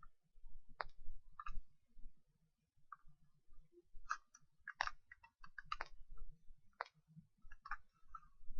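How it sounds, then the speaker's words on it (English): Computer mouse clicks while graphing data in a spreadsheet, a series of sharp, quiet clicks scattered irregularly over a low background hum, with no talking. "So I'm going to right click, on my graph, select data."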